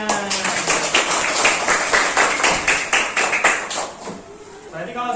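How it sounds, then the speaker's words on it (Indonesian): Pupils in a primary school classroom clap together in a quick, steady rhythm of many crisp claps that fades near the end, with voices in the room. "Pintar, tepuk tangan"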